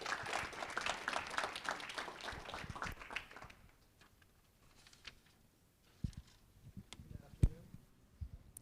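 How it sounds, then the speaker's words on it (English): Audience applause at a pitch competition as a founding team is welcomed to the stage, a loud burst of clapping for about three seconds that fades out, followed by quiet room noise and a few scattered taps and thumps. "Round of applause."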